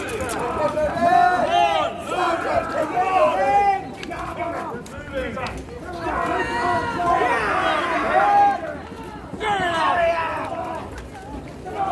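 A crowd shouts and clamours in a chaotic street scene, loud overlapping voices rising and falling throughout, with soldiers barking orders amid the din.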